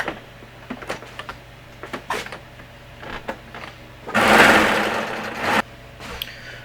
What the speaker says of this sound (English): I'm going to go up one more setting, and I'm just going to stitch that really quickly here.